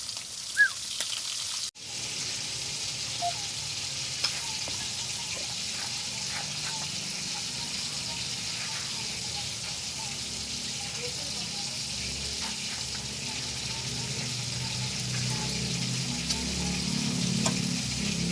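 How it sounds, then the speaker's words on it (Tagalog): Pork steak fries in a pan with a steady, close, hissing sizzle that begins after a brief bump and carries on evenly throughout, with occasional faint clinks and no one talking over it. "Prituin muna natin mga buddy."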